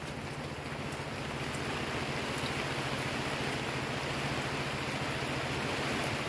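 Steady rain falls over a reservoir during a fishing trip at Mae Kuang Dam in Chiang Mai, Thailand, a continuous even hiss of drops with no voices.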